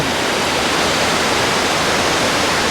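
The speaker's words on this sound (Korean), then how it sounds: "이 지점에서 연서포 폭포 여러분들에게 보여드립니다." Bridal Veil Falls near Vancouver pours in a loud, steady roar of falling water, an unbroken hiss with no pauses and no voices.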